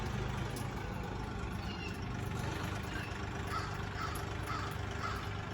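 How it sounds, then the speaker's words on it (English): Crows caw repeatedly in the distance over a steady low rumble, like an idling engine nearby. "here are the crows."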